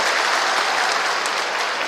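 An audience gathered in Bhopal for a Chief Minister's address to panchayat secretaries breaks into sustained applause, a loud, dense and uniform roar of clapping that never lets up.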